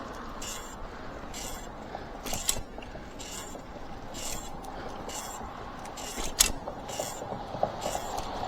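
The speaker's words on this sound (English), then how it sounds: "The crank on the right hand side is making that noise." Rhythmic creaking from the right-hand crank of a bicycle while riding, repeating with each pedal stroke over steady road and wind noise.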